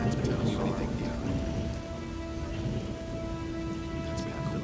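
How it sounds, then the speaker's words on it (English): Steady rain falls with a low rumble of thunder in the Gothic 2 role-playing game, a continuous hiss of downpour under faint tonal game music, with no voices over it. "Wow, it's raining again."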